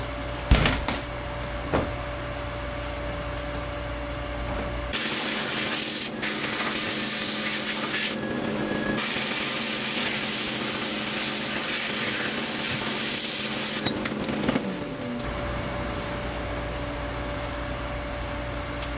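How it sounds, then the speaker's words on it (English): Sandblasting cabinet spray gun blasting abrasive sand onto Turbo 350 transmission parts, a steady loud hiss that starts abruptly and runs about ten seconds with a brief break, framed by clunks and handling noises before and after. "I've got a gun in here that's going to spray the sand, and the projectile sand is going to clean up all these parts back to bare metal"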